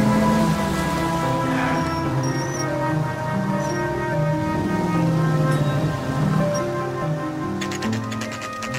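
Steady rain in the L.A. Noire video game falls as a constant wash over a low musical score, with a brief clatter of drops near the end.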